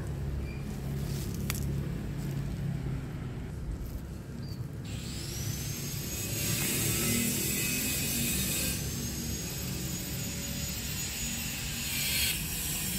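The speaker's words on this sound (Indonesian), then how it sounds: "Tuh tetangganya lagi renovasi rumah, berisik ya teman-teman." Continuous broadband construction noise from a neighbouring house renovation, a steady mechanical roar with scraping and grinding, with no one speaking.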